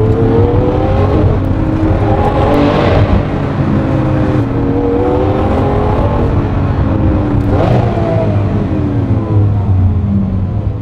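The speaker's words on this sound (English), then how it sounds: "He's just driving around in the Lamborghini." A Lamborghini engine drones loud and close while driving, with two distinct revving surges rising over the steady roar.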